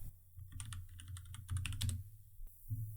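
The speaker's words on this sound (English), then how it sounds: "So I'm going to type in skyline." Quick keystrokes on a computer keyboard while typing a word into an online design tool's photo search, a close burst of light clicks with a brief pause, no talking.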